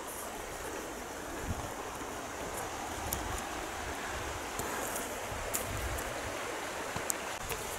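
River water flowing steadily through Killaloo Woods in Northern Ireland, a continuous broadband rush heard alone without voices, with a few faint clicks and knocks scattered on top.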